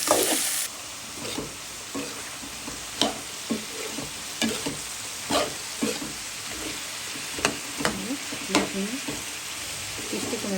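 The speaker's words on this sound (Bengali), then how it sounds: "ভাজা ভাজা হতে থাক" Sweet pumpkin fries in a pan with onion, tomato, green chili and salt, a steady sizzle broken by repeated scraping strokes of a spatula stirring at a loose, regular rhythm.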